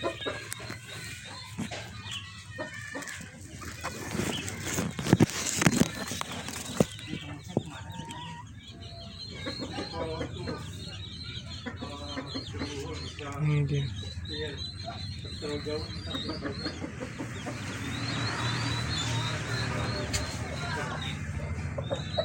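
Turkeys on a farm cluck and gobble, with irregular calls rising over a busy background while a person talks through much of it.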